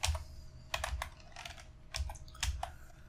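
Code being typed on a computer keyboard: short irregular clusters of crisp key clicks with pauses between, close and quiet, no talking.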